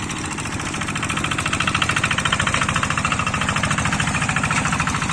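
A small Boxer hand tractor engine chugs loudly nearby while plowing, with a fast, steady knocking rhythm and continuous mechanical clatter.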